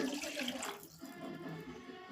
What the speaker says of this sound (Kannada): ಇವಾಗ ಇದಕ್ಕೇನೆ ನಾವು ನೀರನ್ನು ಹಾಕ್ಕೊಳ್ಳೋಣ